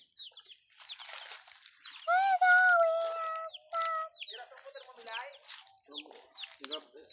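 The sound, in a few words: bird calling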